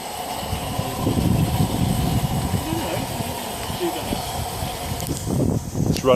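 An Accucraft Garratt live steam model locomotive hisses steadily on a garden railway while struggling to hold pressure, with a constant breathy steam noise and low mechanical rumble throughout.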